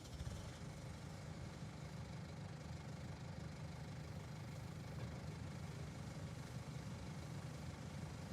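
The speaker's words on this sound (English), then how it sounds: "And we'll need a tractor." A tractor engine idles steadily in a farming video game, a continuous low, slightly knocking rumble that holds at an even level throughout, with no voices.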